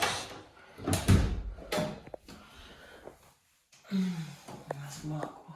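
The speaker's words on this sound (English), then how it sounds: "Showing that the door locks." A bathroom door lock in a rented house is worked, giving a few close clunks and clicks amid quiet room noise and breathy vocal sounds.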